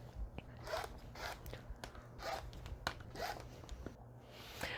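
Two layered fabric strips cut into 3.5 inch squares, quiet crisp slicing and rustling strokes repeating every half second or so, close and faint, with no voices.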